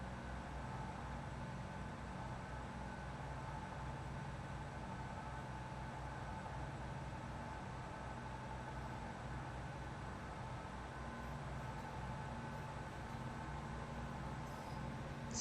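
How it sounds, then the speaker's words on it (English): A Great Western Railway Class 800 train approaching Bath Spa station produces a steady, even engine drone with a low hum throughout, moderately distant and unchanging in level, with no voices. "approaching now is a 10:43 Great Western Railway service from Bristol Temple Meads to London Paddington"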